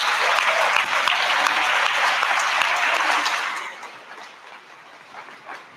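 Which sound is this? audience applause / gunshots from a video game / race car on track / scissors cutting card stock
audience applause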